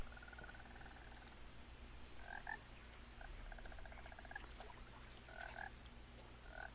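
A frog croaks in What Remains of Edith Finch, sounding in several short paired bursts against a steady low ambient hum, fairly close and moderately loud.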